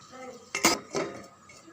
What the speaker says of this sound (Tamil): அப்படியே தட்டு போட்டு மூடி வச்சிடலாம்.